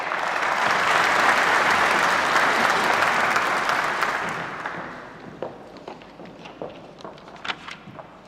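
Loud applause from the audience at the opening session of a Lisbon forum swells for several seconds, then fades to scattered claps and shuffling.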